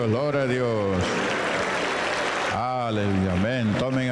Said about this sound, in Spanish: Un fuerte aplauso para nuestro Creador.